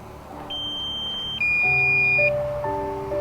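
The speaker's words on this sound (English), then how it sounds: "it's just gonna beep until it tells us it's gonna force it to land" A DJI Mini 2 drone gives low-battery warning beeps in cold weather: short electronic beeps in a few spaced bursts, fairly faint, over a low steady hum with some quieter tones.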